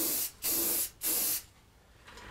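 Two short bursts of an aerosol spray can painting a masked-off eagle address sign, each a loud hissing blast about half a second long, followed by quiet and a faint distant hiss.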